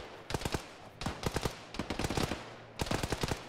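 Machine gun fire in the Arma military video game comes in short rapid bursts of several shots each, four clusters in quick succession, loud and sharp with no talk.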